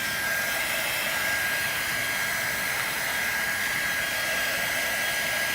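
A hair dryer blows on painted craft pieces, giving a loud, continuous airy roar with a steady high whine that holds unchanged throughout, no talking over it.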